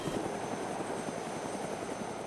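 Helicopter in the video game DayZ, a continuous rotor and engine drone with a fast rhythmic chop, moderately loud and steady, heard alone without talk.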